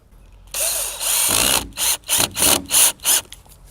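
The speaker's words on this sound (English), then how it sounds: "Just a small wood screw. Just going to put it in the side here like so." A power drill drives a small wood screw into the side of a wooden kayak fence storage rack, with one longer whir followed by five short, loud bursts as the screw seats.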